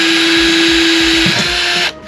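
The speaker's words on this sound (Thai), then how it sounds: "ผมจะเจาะรูครับ ใช้ดอกสว่านอเล็กเนี่ยเจาะรู" An electric drill bores a hole through the sheet-metal body of a van, giving a loud steady whine with a bright tonal hum that cuts off near the end as the bit punches through.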